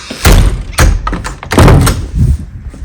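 A door is shut at the start of an outing to an elephant park, giving several dull thuds and knocks at close range, about four heavy impacts spaced unevenly over a few seconds with no talking.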